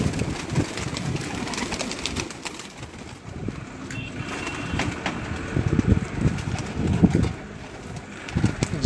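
Pigeons on a rooftop in Sialkot coo in soft low repeated calls amid steady background noise and occasional knocks, fairly close and not very loud.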